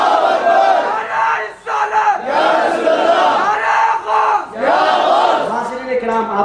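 A large crowd at a Milad-un-Nabi gathering in Yakut Pura roars a religious slogan in unison, loud massed voices rising and falling in repeated chant-like bursts with brief dips between them.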